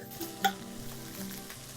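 Tuna warming in a hot pan sizzles with a steady fry, plus a brief stirring clink near the start; no voices.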